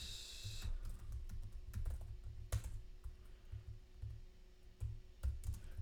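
Python code being typed on a computer keyboard, with close, uneven keystrokes that come in quick clusters separated by short pauses, and a few sharper taps standing out.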